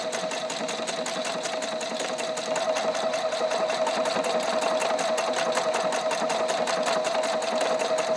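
A Pfaff Icon sewing machine stitching a circle runs with a steady, rapid mechanical whir and fast even needle clatter, loud and close, continuous from start to end with no talking.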